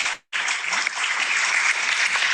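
Steady applause at the end of a virtual academic talk, a dense even wash of clapping after a brief silent gap at the start, moderately loud and without talk.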